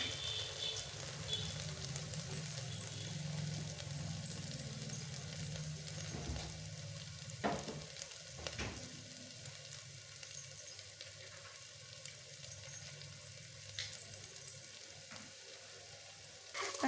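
Masala and tomato for mutton soup sizzle and fry quietly in a pan, broken by a few sharp clacks of a spoon stirring. Nobody speaks.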